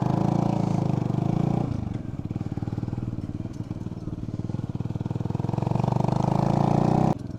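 A Sinnis Hoodlum 125 motorcycle with an aftermarket exhaust runs close by, its engine settling from a fuller note into a rapid, steady putter at idle before revving back up near the end.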